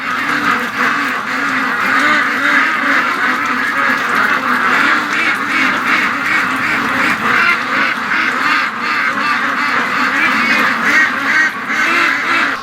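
Many ducks quack continuously in a dense, overlapping chorus in the rain as they leave the water, loud and close, with a steady rhythmic texture throughout.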